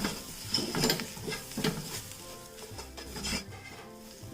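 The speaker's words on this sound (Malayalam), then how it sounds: "ഇതൊന്ന് വഴറ്റി കൊടുക്കാം" Tandoori masala powder and Kashmiri chili powder sautéing in a pan, a low crackling sizzle under a few scraping strokes of a spoon, heard close with no talking.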